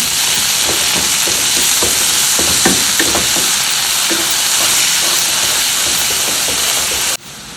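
Chopped tomato and salt sizzle and fry in a pan while being stirred for prawn thokku, a loud, continuous hiss with scraping stirs throughout, cutting off abruptly near the end.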